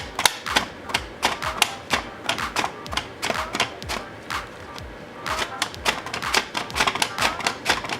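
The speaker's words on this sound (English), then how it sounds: "use a mandolin slicer and just slice thin pieces of the cassava, and keep going slowly both ways" Thin slices of cassava are cut on a mandoline slicer, a rapid run of sharp, close clacks and thuds in an uneven back-and-forth rhythm with no talking.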